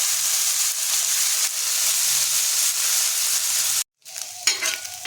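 Prawns fry in a pan with a continuous close sizzle and bursts of stirring, then a brief cut to silence followed by quieter scraping and a sharp crackle.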